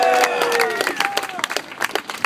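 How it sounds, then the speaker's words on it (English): A crowd at a city hall protest rally applauds and cheers in a dense wash of clapping, with voices and whoops mixed in nearby. "Give yourselves a round of applause."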